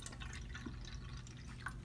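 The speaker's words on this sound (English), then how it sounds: "I am going to fill half of the cup with water" Water poured into a clear cup to fill it halfway, a quiet steady trickle with faint dripping over low background hum, no talking.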